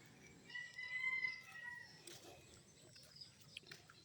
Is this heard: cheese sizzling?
no